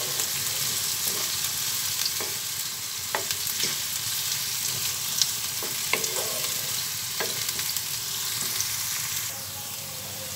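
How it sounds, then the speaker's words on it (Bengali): Onions with three bay leaves fry steadily in hot oil, browning as a constant crackling sizzle with occasional sharp pops and faint scrapes of stirring, close and alone with no talk. "এই পেঁয়াজটাকে আমি একটু ব্রাউন ব্রাউন করে ভেজে নিব।"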